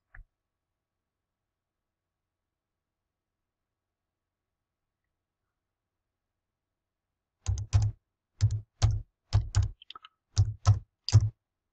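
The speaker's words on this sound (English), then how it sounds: "And type in the Lord's Prayer." Roughly eight sharp keystrokes on a computer keyboard come in a short, uneven burst near the end, close and clear after a long silence.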